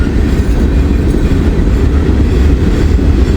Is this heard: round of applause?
no